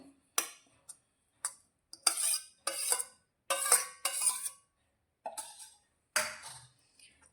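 A spoon clinks and scrapes against a pan, stirring fenugreek leaves into gravy in short, separate bursts with quiet pauses between them.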